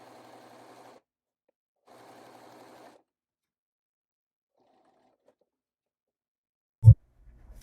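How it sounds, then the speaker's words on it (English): Two short runs of a sewing machine stitching a baby quilt seam, each about a second long with a pause between, quiet and close, followed later by a single sharp thump. "Just continue to sew until you reach a pin, take the pin out, and then continue sewing."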